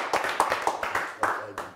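Brief studio audience clapping on a Turkish TV game show as actress Birce Akalay is sent off, scattered claps with a voice speaking over them.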